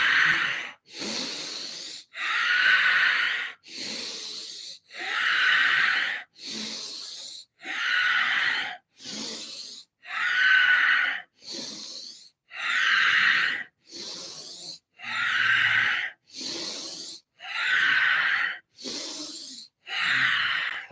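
A deep breathing exercise of about nine full breaths, each a long forceful inhale and exhale, comes as steady, evenly spaced rushes of breath close to the microphone, with no talking.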